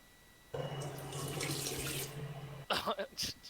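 A tap runs into a sink beside a computer desk, a steady close hiss of flowing water for about two seconds, then splashing and gurgling bursts as the stream breaks up.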